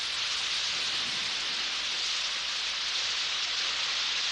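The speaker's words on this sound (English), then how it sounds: "Oh, it's raining." Steady rain hisses evenly with a dense, constant patter, no voices.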